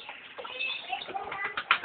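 A young pigeon coos softly up close as it is let go to fly outdoors, with a faint flutter of wings and voices talking in the background.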